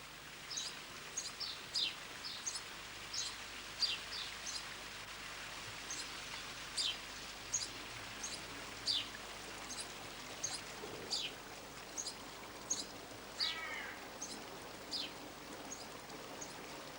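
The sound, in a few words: running water in a Persian garden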